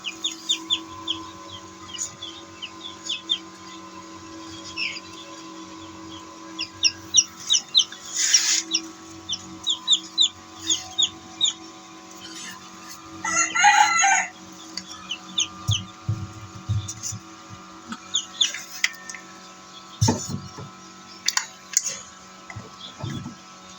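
Chickens cluck and chatter in repeated short bursts close by, with a steady low hum underneath and occasional louder squawks.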